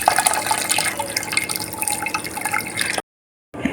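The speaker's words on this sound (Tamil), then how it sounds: "ஸ்ட்ரெயினர் எடுத்து நம்ம வறுத்து வச்சுருந்த கடலை மாவை தண்ணி ஊற்றி லிக்விடாக பண்ணிக்கலாம்." Gram flour batter mixed with water is poured through a strainer into chicken broth for khow suey, a steady liquid pouring and dripping sound that runs loud for about three seconds, stops briefly, then resumes.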